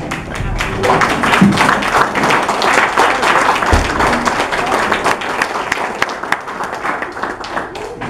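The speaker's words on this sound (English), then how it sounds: "if we can all stand on your feet and give them a round of applause" A standing audience at a realtors' association candidates forum gives a round of applause, dense clapping sustained for several seconds with scattered louder claps and a few voices underneath.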